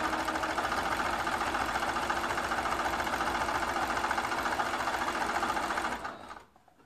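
A sewing machine binding a large quilt runs steadily at a fast, even whir for several seconds, then stops near the end, leaving quiet.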